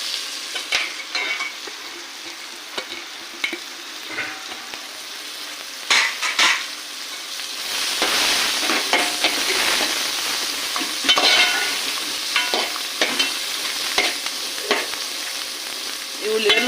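Onions frying in a pan for restaurant-style paneer butter masala, a close sizzle that swells louder midway, punctuated by scraping stirs and light clinks of a spoon against the pan, with no one speaking.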